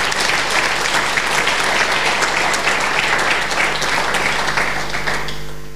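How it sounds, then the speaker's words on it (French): Sustained applause from a conference audience, dense and steady clapping throughout that tapers off slightly at the end, with no talking. "Je crois qu'on peut les applaudir"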